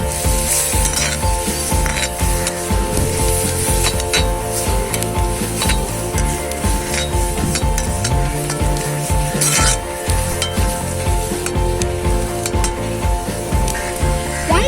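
Squid pieces coated in turmeric, Kashmiri chilli powder, pepper and curry masala sizzle loudly in a frying pan while being stirred, with steady frying hiss and occasional utensil scrapes and clinks against the pan.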